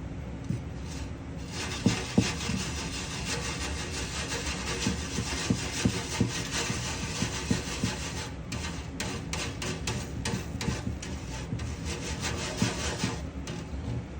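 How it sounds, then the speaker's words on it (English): A spoon scrapes and rubs through a clumped rubber star prime mix that holds bits of aluminum, making continuous close, gritty grinding strokes with occasional sharper knocks. "Use the back of our spoon to break them up."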